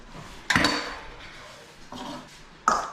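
Spice mixture stirred into lentils in a pan with a utensil that scrapes and clatters against the metal in three short bursts, close and moderately loud, with no talk.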